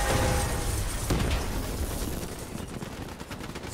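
Heavy gunfire and explosive bursts in the Call of Duty Black Ops III campaign, loud and continuous with dense overlapping shots and booms throughout, no talking.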